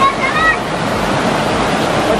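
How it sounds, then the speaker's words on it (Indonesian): Water runs from a mountain spring along a hiking trail up Mount Guntur in Garut, a steady close wash of flowing water that fills the whole clip. "Ada mata air."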